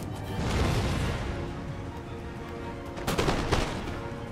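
Musket volleys from massed line infantry in Empire Total War roll out as dense overlapping crackling shots, with a sharper cluster of louder reports near the end and a steady battle din beneath.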